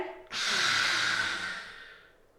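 A long, breathy exhale during a vinyasa yoga flow, starting abruptly and loud and close, then a steady rushing hiss that slowly fades over about two seconds.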